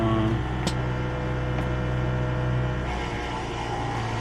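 A small electric water pump in a van sink plumbing setup hums steadily at close range, a constant motor drone with a faint click near the start and a slight change in tone toward the end.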